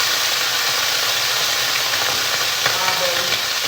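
Eggs frying in a hot pan sizzle hard as a splash of water hits them, giving a loud, steady hiss of spitting steam that holds without a break, with a few brief crackles near the end.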